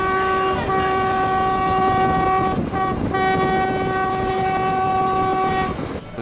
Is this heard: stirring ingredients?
no